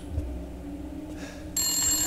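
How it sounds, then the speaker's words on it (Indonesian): In the video game Resident Evil Village, a telephone suddenly starts ringing partway through, its bright, clear ring standing out over a quiet, low ambient hum. "Habisnya ada yang telepon nih"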